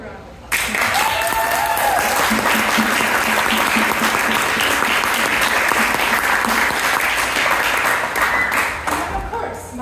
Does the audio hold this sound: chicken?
no